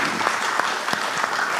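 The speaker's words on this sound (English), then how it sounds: "I would just love to get a round of applause for Sridhar." An audience at a business conference applauds a keynote speaker with a dense, steady wash of clapping, a few individual claps standing out sharply, close and sustained throughout.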